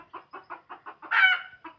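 A free-range village hen clucking near a house in a run of short, evenly spaced clucks, close and clear, with one longer, louder squawk partway through.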